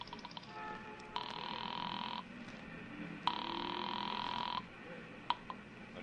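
Old-style telephone ringing after dialing, two long electric rings with a pause between them, faint and alone with a little clicking.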